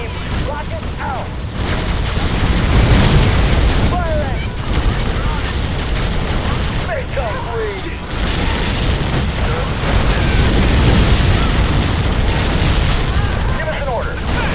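Rocket fire and explosions boom through a Halo Wars battle on Xbox 360, heavy rumbling blasts running continuously under clipped unit radio voices and battlefield noise.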